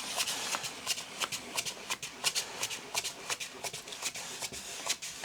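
Brisk, rhythmic bristle strokes as a paintbrush sweeps acrylic paint left and right across a canvas up to a taped edge for a sunset painting, close and dry-sounding, with no voices.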